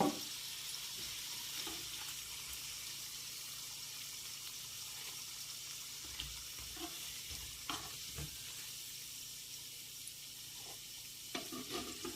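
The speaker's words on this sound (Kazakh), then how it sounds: "Енді екінші жағы қуырғанша ұстап тұрамыз." A kefir-and-egg flatbread fries on its second side in a pan with a soft, steady sizzle, broken by a few faint clicks and light scrapes, quiet and close with no voices.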